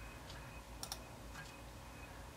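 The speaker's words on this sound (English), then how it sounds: "You might want to use your arrows on your keyboard." A few light key presses on a computer keyboard's arrow keys, three or four soft clicks in short bursts over a steady low room hum, no talking.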